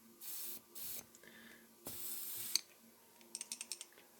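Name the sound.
contact cleaner spray can spraying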